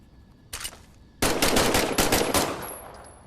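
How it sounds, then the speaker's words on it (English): A weapon fires in the Medal of Honor video game: a single shot, then a sustained rapid burst of automatic gunfire, loud and close, followed by a high ringing tail. "Just to be sure, why don't you test fire your weapon?"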